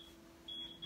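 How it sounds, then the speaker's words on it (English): An oven timer signals that a tray of brownies has finished baking, sounding a thin, high electronic beep once briefly and then again in a longer tone, faint and quiet in a kitchen. "So we're beeping."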